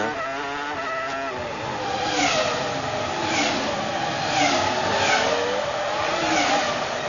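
Formula One cars from the F1 2003 video game racing around the Monaco street circuit, engines screaming continuously at high revs with rising and falling pitch as cars pass, sustained and loud throughout with no talking.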